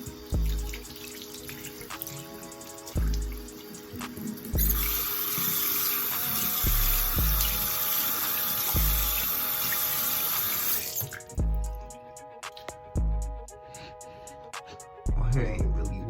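Tap water runs steadily into a sink for wetting hair, a broad continuous rush that swells louder mid-way, with intermittent thumps and low knocks alongside.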